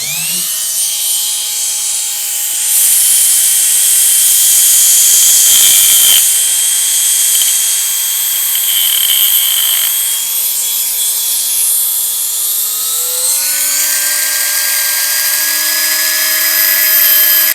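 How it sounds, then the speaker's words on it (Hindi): An MPT 160W electric rotary mini grinder cuts through a thick nail with a loud, steady, close high-pitched whine whose pitch climbs partway through. "सबसे पहले मैं ये जो कील है इसको काट के देखता हूँ"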